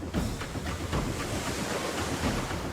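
Ocean waves surge and wash in a steady, rolling roar with periodic swells, close and fairly loud, wind noise mixed in, no voices.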